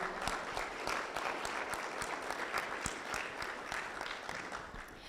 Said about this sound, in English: please take a second to give this man another round of applause for serving as an incredible interim CEO